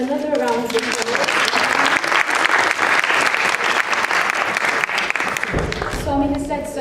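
Loud, sustained applause from an audience after a children's performance at a Mahila Day 2012 gathering, dense clapping filling the hall for several seconds before tapering off abruptly near the end.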